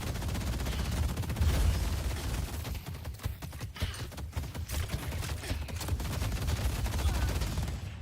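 Dense turret gunfire in the mech game Mecha Break rattles as a steady, continuous barrage of rapid shots for the whole stretch, loud and close with no pauses.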